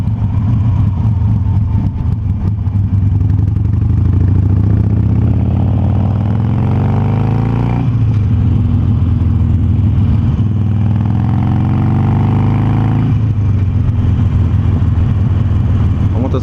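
Harley-Davidson Sportster Roadster motorcycle engine heard while riding, a loud, steady rumbling V-twin drone with wind noise and two rising rev sweeps as it accelerates through the gears, with no talk.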